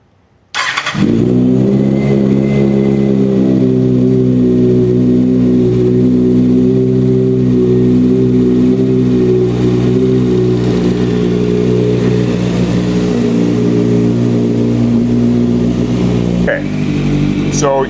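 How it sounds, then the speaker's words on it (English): A Kawasaki ZX6R sport bike fires up and idles loud and close, a steady rich engine drone that holds for over fifteen seconds before dropping off abruptly. "The moment of truth. I've never heard this bike start."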